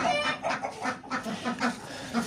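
Ducks at a pigeon setup call in a run of quick, nasal quacks, close and moderately loud, repeating in uneven bursts with no talking.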